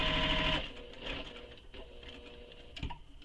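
A sewing machine runs in a short burst of rapid stitching while a shoulder bag is sewn, then stops, followed by faint clicks and handling noises as the presser foot is lifted.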